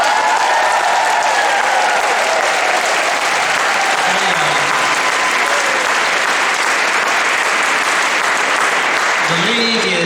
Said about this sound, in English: can we all just give a real round of applause for the League of Women Voters?